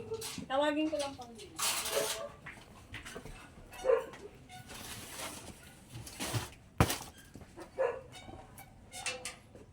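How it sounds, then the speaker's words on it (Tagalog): A dog barks and whimpers a few times amid people talking nearby, with some sharp knocks in the background. "May aso mga kaibigan."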